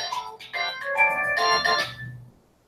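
A phone plays a short, bright electronic ringtone melody that rises and falls, clear and fairly close, before cutting off.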